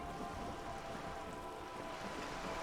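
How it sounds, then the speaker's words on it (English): Steady rain falls on wooden boards and water in the Disco Elysium video game, a faint, even hiss that goes on without a break. "All around you, rain keeps falling down. On the wooden boards she's standing on, and on the water around you."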